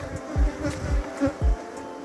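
Honey bees buzz around an opened spring hive being smoked, a steady hum broken by several louder low swells as bees pass close by, with no talking.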